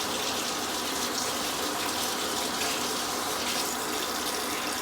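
Hot water runs steadily from a kitchen tap into a container, a continuous broadband hiss and splash that stays even and close for the whole stretch, with no talking.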